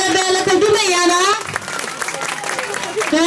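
Clapping from an audience at a village Christmas celebration held by the Ngaphe/Minhla area HBC mission field in 2019, steady and continuous beneath a prominent voice talking over it.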